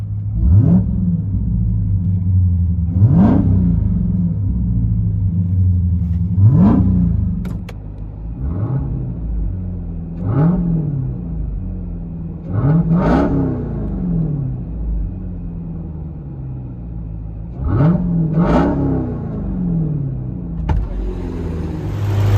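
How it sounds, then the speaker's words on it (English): A supercharged 6.2L Hemi V8 in a Jeep Trackhawk rumbles at idle and is revved repeatedly, each throttle blip rising sharply then falling back, heard up close. "There's that Hemi supercharged beast of a motor with the supercharged SRT, baby, right there."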